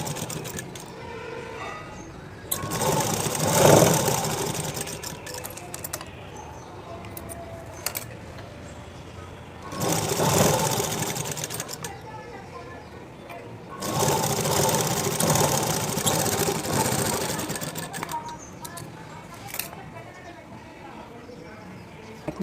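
A sewing machine top-stitches along a blouse lining in three long bursts of rapid stitching, loud and close, broken by pauses where quieter handling of cloth and a voice can be heard.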